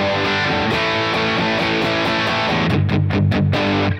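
A distorted electric guitar rock tone from a Fender Mustang GT amp preset plays a steady chugging riff, loud and alone, ending on a few choppy staccato stabs.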